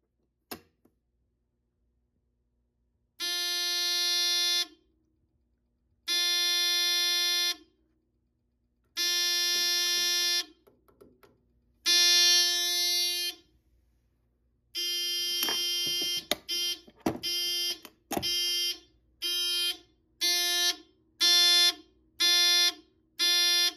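A Simplex 4001 fire alarm panel's sprinkler tamper alarm sounds in repeated loud electronic bursts, slow at first with gaps, then quickening into rapid, evenly spaced pulses.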